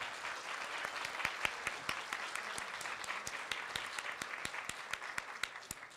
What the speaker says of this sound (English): So we should give them a round of applause.